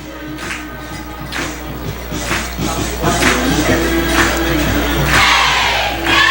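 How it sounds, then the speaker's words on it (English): A football crowd at John Milledge Academy stands and cheers, a loud continuous roar of voices with shouts rising toward the end. "So the crowd here at John Milledge Academy is excited and on their feet"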